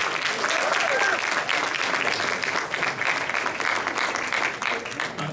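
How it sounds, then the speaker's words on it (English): Audience applause for Congressman Nathaniel Moran at a college International and Passport Day event, a steady, dense round of clapping lasting several seconds with faint voices mixed in. "Please join me with a round of applause,"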